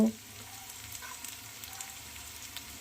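Fish head frying with turmeric and cumin powder in a pan for a home-style muri ghonto, giving a steady, soft sizzle and crackle with small pops, fairly quiet and without voices.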